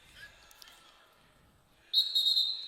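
A referee's whistle at an Illinois vs Northwestern college wrestling match gives one loud, sharp, shrill blast near the end, after a faint thin tone and quiet arena murmur.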